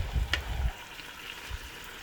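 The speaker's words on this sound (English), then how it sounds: "while the shrimp is cooking here" Shrimp sizzle in a hot pan while cooking for scampi, a soft steady hiss under a few low knocks and clatters early on, close by with no talk.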